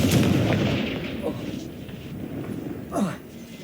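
A Confringo fire-blast spell explodes in the Hogwarts Legacy video game with a loud, booming burst that fades into rumble, followed by a second smaller blast near the end.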